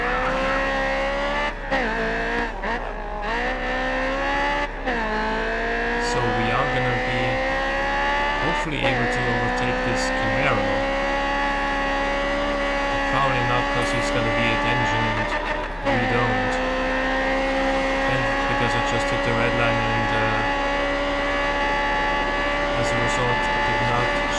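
A race car in the GRID Autosport video game, a Honda S2000 on track, holds a loud steady engine whine with shifting pitch through gear changes, punctuated by repeated tire squeals as it corners, while people talk over it.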